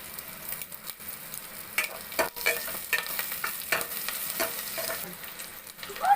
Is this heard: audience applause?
no